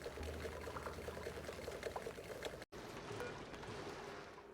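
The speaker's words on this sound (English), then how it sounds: "while we're dumping in some water." Water is dumped into a cooling system that is under vacuum, making a steady, continuous rushing pour that runs for several seconds with a brief break partway through.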